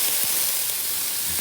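Water hits hot garlic-seasoned sliced potatoes on a Blackstone Tailgater griddle, giving a brief, loud, steady hiss of steam that stays even from start to finish.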